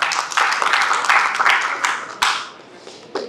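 An audience at a minority party and Christian leadership conference applauds in a dense burst of clapping that gradually thins out, with a few louder individual claps standing out near the end and voices mixed in beneath.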